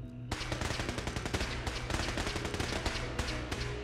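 Sustained rapid gunfire in Fallout 4, a steady stream of quick shots at moderate distance that starts abruptly and keeps a fast, even rhythm throughout.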